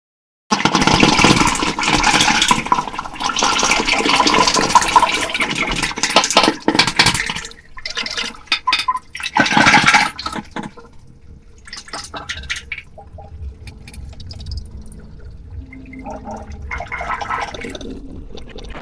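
Water churns and splashes loudly inside an old stone sluice channel of a tenth-century Pandya-era lake embankment where water stands. It settles into fainter, irregular dripping and gurgling, with no one speaking.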